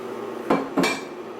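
Two short metallic clanks of a pot ring out close and fairly loud in quick succession as Napa cabbage and broth go into a pot of gluten-free vegan ramen, with a steady low background hum and no talking.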